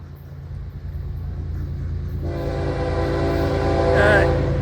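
A northbound train approaches and passes, a steady rumble building in loudness with a horn sounding near the end, no talking over it.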